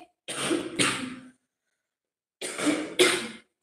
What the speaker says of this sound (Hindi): कंटिन्यू बोल लिया, होने लगा खांसी